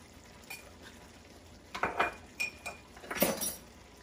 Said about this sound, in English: You just want to stir it all together.